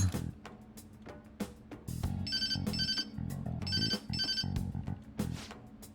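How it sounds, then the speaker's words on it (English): Phone ringing in Persona 5 Royal, a bright electronic ringtone repeating in short rhythmic bursts over soft game music, with no voices. "Oh, call Sojiro's phone."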